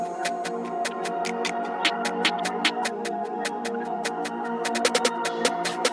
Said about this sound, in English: Also, on this new snare, we do have a slight bit of delay.